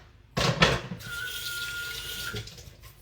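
Kitchen sink tap running water, with a brief splash and clatter at the start and then a steady close stream for about two seconds before fading.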